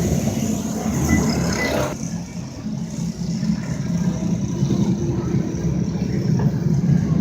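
Pro stock race cars on a track after a restart, a loud continuous engine roar that dips briefly and then builds again as the field accelerates, with no clear talk.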